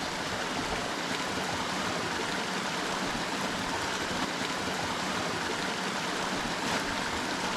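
Steady rushing water flows continuously, a broad even hiss of a mountain creek in Arizona's Rim Country with no pauses, moderately loud and close.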